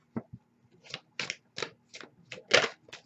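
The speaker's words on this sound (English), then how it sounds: "I'm shuffling on camera today because I feel like I just need to." Tarot cards being shuffled by hand in repeated quick riffling bursts, about eight close, crisp rustles in an uneven rhythm with short pauses between, no voices.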